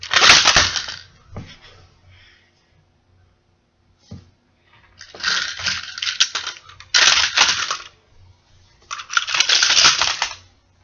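A toy train crashes into a model station, giving several loud clattering, crunching bursts of plastic and metal that are separated by short quiet gaps.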